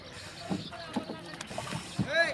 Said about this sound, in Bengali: এই দেখেন কিভাবে নৌকা নৌকা বাড়ি খায়